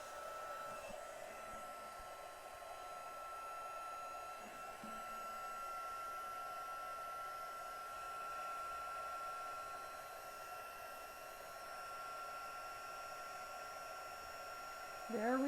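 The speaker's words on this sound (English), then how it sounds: "now we are going to heat this up and melt the embossing powder." A heat gun blows steadily as it melts embossing powder, giving a constant airy whir with a faint high whine, quiet and unbroken for about fifteen seconds with no talk.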